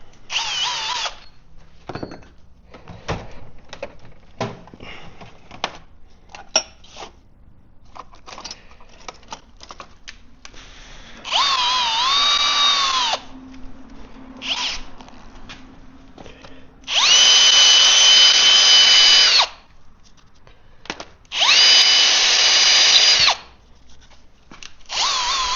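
A power drill opens a hole to fit a dipstick during a Kubota engine swap. It runs in three separate bursts of a few seconds each, and light tapping and handling noises fall between them.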